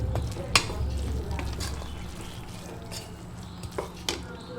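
Pumpkin erissery mixed with ground coconut paste being stirred in a pot, giving a soft continuous sizzle with irregular scraping and clinks of the spoon against the pot, near and moderate, no voices.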